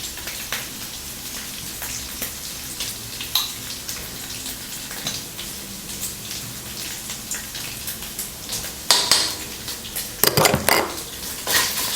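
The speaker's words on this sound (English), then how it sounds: "Stir to separate the meat and to avoid sticking to the wok until it turns aromatic." Minced pork stir-fries in a wok with preserved olive, giving a continuous crackling sizzle broken by clattering spatula scrapes against the metal. The scraping grows busier and louder toward the end, and nobody speaks.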